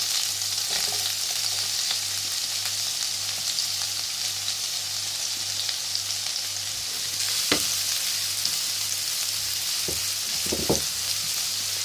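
Onions sizzling in melted butter in a pan for a Turkish gozleme filling, a steady close frying hiss with a low hum underneath and a few brief stirring knocks near the end, no voices.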